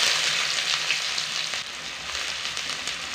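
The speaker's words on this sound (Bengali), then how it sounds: "পেঁয়াজটাকে হালকা করে একটু ভেজে নেব।" Chopped onions fry in hot oil spiced with cumin, cardamom and cinnamon, a close, steady crackling sizzle with faint stirring scrapes, alone and continuous throughout.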